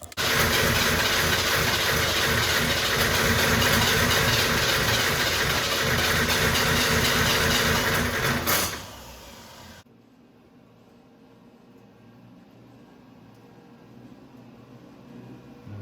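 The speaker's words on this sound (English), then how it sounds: "Let's start it up and see what happens." A 1987 Buick Grand National with its turbo engine, freshly rebuilt with ignition parts replaced, cranking and churning loudly and steadily for about nine seconds before it cuts off into near silence.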